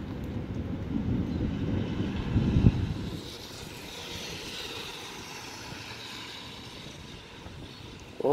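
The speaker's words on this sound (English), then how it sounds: "I'm not getting any lightning, but a lot of thunder" Thunder rolls through an afternoon rainstorm, a heavy low rumble in the first few seconds that eases into a softer, steady wash of rain and distant noise, then ends on a sudden close knock.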